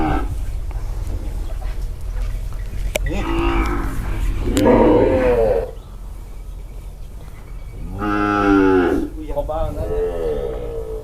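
Cattle moo loudly and repeatedly at a native cattle and buffalo market in Wang Prachop, Tak, Thailand, long low calls rising over constant background chatter and market noise.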